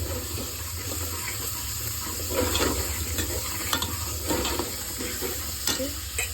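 Masala spices fry in a pan for a hotel-style paya, giving a continuous crackling sizzle over a low hum, with scraping from stirring.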